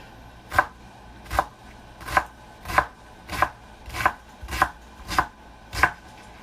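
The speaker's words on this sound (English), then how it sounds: "when it's coming off the knife, it's coming off in tiny little pieces" Knife mincing a shallot on a cutting board: nine crisp, evenly spaced chops, close and clear, with no voices.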